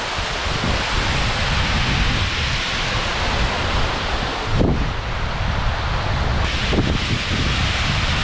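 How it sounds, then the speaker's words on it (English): Waterfall in the Lake District fells, a steady broadband rush of falling water filling the whole clip at close range, with a couple of brief knocks and no talking. "I'm gonna go check out this waterfall."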